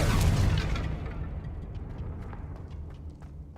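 A single Confringo explosion spell in a wizard game: a loud, close blast that quickly booms out, then decays into a rumbling, crackling tail with scattered faint pops.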